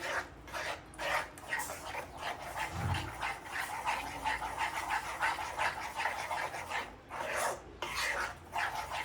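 Mohanthal mixture is stirred quickly after sugar syrup is added, giving a thick, rhythmic scraping and rubbing that repeats closely and steadily throughout.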